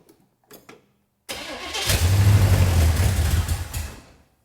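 A hot rod's engine cranks in a few brief bursts, pauses, then catches and roars to life with a loud, close run lasting a couple of seconds before cutting out.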